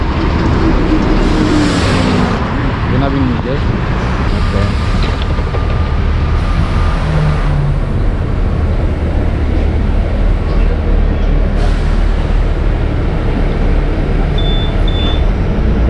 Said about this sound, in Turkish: otobüs geldi